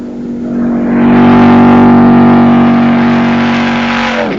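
A Corvette ZR-1 race car engine on track roars up close, swelling to a loud sustained high-revving drone that holds steady and then tails off as it passes.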